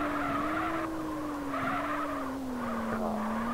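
Tires squeal continuously as a car drifts through a corner in a GTA racing game, a loud sustained screech that wavers slightly in pitch over a droning engine.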